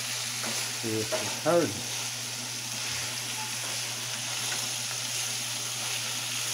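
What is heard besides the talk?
ground beef frying on grill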